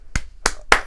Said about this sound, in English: got to get a round of applause, man.